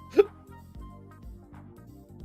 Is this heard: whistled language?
no